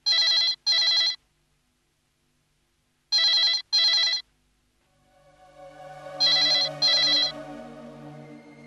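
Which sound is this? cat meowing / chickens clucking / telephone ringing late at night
telephone ringing late at night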